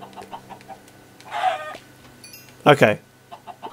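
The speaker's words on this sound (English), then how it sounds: "These are mad chickens." Minecraft chickens cluck in short bursts, two louder squawking clucks standing out over softer background clicks, with a brief spoken word from a player.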